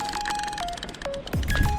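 A small bell clipped to a fishing rod rings in a quick series of bright, thin dings as a fish nibbles the bait, with irregular clustered strikes and some handling clatter nearby.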